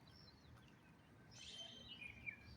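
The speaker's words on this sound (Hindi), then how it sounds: "सुबह सुबह ये परिंदे चहचहाते हुए बहुत ही खूबसूरत लगते हैं" Birds chirp on a morning in Pakistan, faint and somewhat distant, with a few thin calls early on and a brighter burst of tweets in the second half over a low background rumble.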